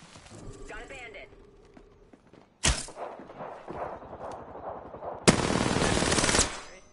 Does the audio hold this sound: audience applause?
no